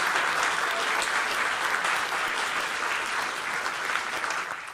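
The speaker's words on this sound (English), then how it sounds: "Can we give them a round of applause, please?" Theatre audience applause at the Stratford Roundhouse, a thick, continuous clapping from a crowd that stays loud and even before easing slightly toward the end.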